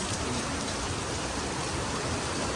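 Heavy rain in Ximen, Taipei, pours steadily, a dense, constant hiss of drops drumming on surfaces with no pauses or voices.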